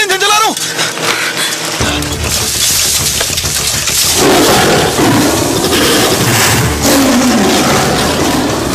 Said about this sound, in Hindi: इंजन चला रहा हूं